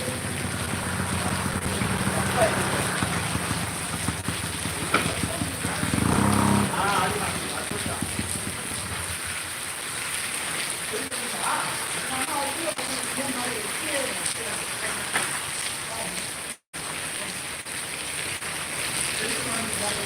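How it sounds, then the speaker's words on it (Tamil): Rain falls steadily for about twenty seconds, a dense continuous hiss and patter with wind-like rumble, with a voice talking over part of it. "சிறப்பாக மழை பெஞ்சிட்டு இருக்குது அருமையாக எப்படி இருக்குன்னு"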